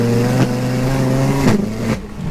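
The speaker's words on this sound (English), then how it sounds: "Let's do a little second gear rolling anti-lag." A 900bhp front-wheel-drive Seat Leon Cupra holds a loud, steady engine drone while rolling in second gear. Three sharp anti-lag pops and bangs cut through it, each followed by a short dip in the engine note.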